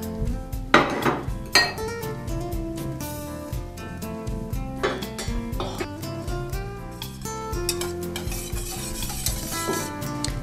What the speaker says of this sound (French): Donc le beurre va fondre petit à petit et il est important de remuer très souvent